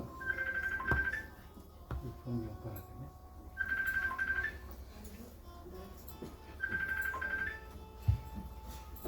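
A mobile phone ringtone plays three times in repeating bursts, a short electronic melody with pauses between, somewhat faint over a murmuring crowd at a religious storytelling gathering.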